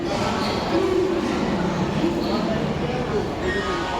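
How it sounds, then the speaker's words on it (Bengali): A moving train on a journey to Puri gives a steady loud rumble with rhythmic rolling clatter and faint tonal wheel whines, continuous and close as if heard from inside the carriage. "তো এখন আমাদের ট্রেন চলছে।"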